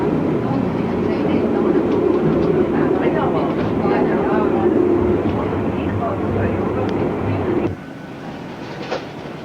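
A Swiss train rolls along the rails through the Alps with a steady rumbling clatter, loud and continuous, easing off toward the end.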